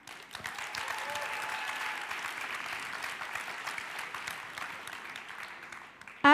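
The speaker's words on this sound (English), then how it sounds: "I believe all our first-year students deserve another round of applause for all the work they've put in." Steady applause from an audience at a school opening ceremony, honoring first-year students; dense, moderately distant clapping lasting several seconds before stopping abruptly, with a brief sound at the very end.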